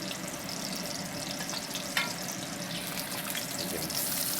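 Onion browns in a hot wok with a continuous, even sizzle and soft crackle close by, a brief clink partway through, and no talk.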